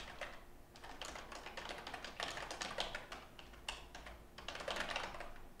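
Someone types quietly but quickly on a computer keyboard while coding a JavaScript app, clicking in dense bursts with short pauses between them, and no one speaks.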